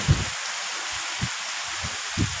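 Rain falling at night during a long-awaited downpour, a steady hiss of drops on surfaces with a few soft, low thumps now and then, continuous and fairly close.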